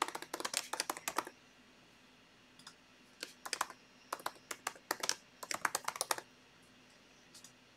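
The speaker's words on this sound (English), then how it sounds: "Every time I try and type on this high keyboard, it makes cap locks go on." Bursts of quick typing on a high computer keyboard, crisp close clicks in irregular clusters separated by short pauses, with no talk over them.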